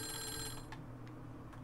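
In the video game Clock Tower, a telephone bell rings faintly in a short burst and then stops, leaving quiet room tone with a few soft ticks.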